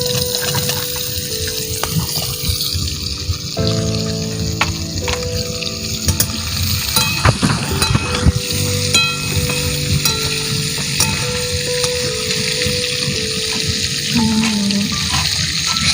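Potatoes and moringa drumstick pieces fry in hot oil, a steady close sizzle with occasional stirring scrapes and splashes, continuous throughout with no talking.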